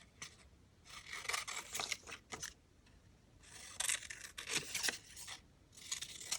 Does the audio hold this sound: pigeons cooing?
no